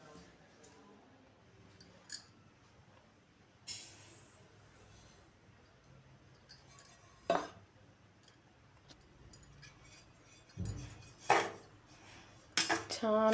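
Semolina being dry-roasted for rava laddu, stirred in a pan with a utensil: scattered metallic clinks and scrapes at irregular intervals over a quiet background, a few louder knocks near the end, with no one speaking.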